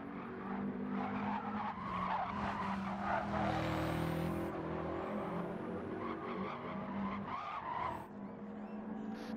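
Onboard a race car, the engine roars steadily close up while tyres squeal and skid through corners, the pitch rising and falling with gear changes.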